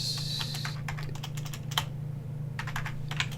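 Fingers type on a computer keyboard in quick, close clicks, a steady flurry that pauses briefly and then resumes, with a low steady hum underneath.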